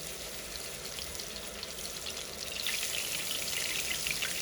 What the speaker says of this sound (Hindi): जी, अब हम अपने पैटी को फ्राई करने के लिए इसमें रख देंगे आराम से